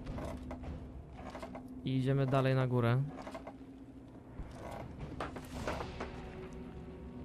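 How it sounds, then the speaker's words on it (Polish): A door is unlocked in the video game This War of Mine, giving a roughly one-second mechanical creaking, ratcheting sound in the middle, while someone talks before and after it. "odblokujmy sobie najpierw te drzwi"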